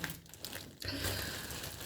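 A plastic bag holding sock yarn is handled and crinkled close by, with soft rustles followed by a louder, denser stretch of crackling. No one speaks over it.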